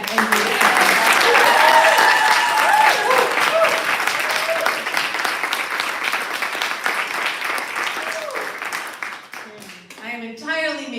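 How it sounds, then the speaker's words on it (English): Sustained applause from a live audience at a November evening reading event, loud and steady before gradually thinning out, with a voice returning near the end. "please give up a round of applause for Jacob and Jason."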